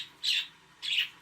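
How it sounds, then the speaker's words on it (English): Pet birds chirp indoors in two short, bright bursts, fairly faint and in the background, with rain-like nature sounds playing softly. "my birds are in the background there, chirping away."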